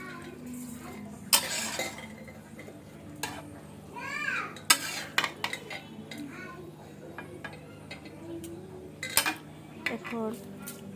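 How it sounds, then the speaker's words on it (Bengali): Rice coated with spices is stirred in a pot for hilsa pulao: irregular scraping and clinks of a spoon against the metal over a soft, steady sizzle, with a few sharper knocks. "মশলার সাথে মাখিয়ে নিচ্ছি, এর সাথে সাথে ভাজাও হয়ে যাবে চালটি।"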